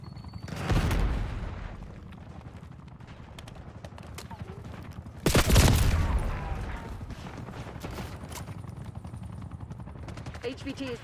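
Gunfire in Black Ops 6 multiplayer: two sharp loud bursts of shots, the second heavier, over ongoing lighter rattling fire and background game noise, with someone talking throughout.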